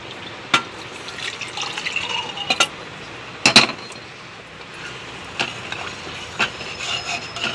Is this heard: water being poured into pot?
yes